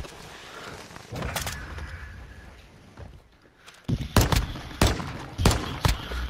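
Pistol shots in a Call of Duty: Modern Warfare 2 multiplayer Search and Destroy match, a handful of sharp, loud cracks spaced unevenly over a low background hum.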